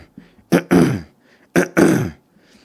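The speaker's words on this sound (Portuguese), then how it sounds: "como se você fosse tirar o pigarro da garganta." Two forceful throat-clearing rasps, used as a drive technique for guttural extreme-metal vocals, each a short catch followed by a longer gritty burst, close and loud with brief quiet between them.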